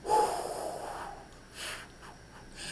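A man exhales forcefully through the nose and mouth, pushing out as much air as he can in a close, breathy rush, then gives a second shorter puff of breath.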